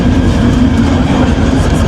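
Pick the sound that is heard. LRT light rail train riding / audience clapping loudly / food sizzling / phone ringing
LRT light rail train riding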